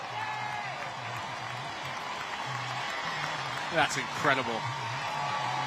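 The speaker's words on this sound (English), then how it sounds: "You hear the crowd." Stadium crowd at a women's soccer match cheering and applauding in a steady roar, with a commentator talking over it throughout.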